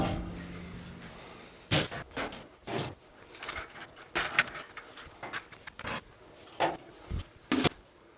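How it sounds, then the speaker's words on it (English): Metal doors and side panels come off a server rack in a home lab: scattered clunks, scrapes and rattles, some sharp and some muffled, spread unevenly over several seconds at moderate distance. "I'm gonna go through and take these doors off, which come off pretty easily, and then just some side panels."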